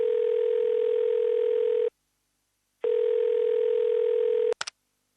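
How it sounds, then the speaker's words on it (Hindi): A steady telephone dial tone hums on a call line, breaking off for a gap of silence before resuming, then ending in a couple of short clicks as the call connects. "तो चलिए फोन कनेक्ट किया जाए।"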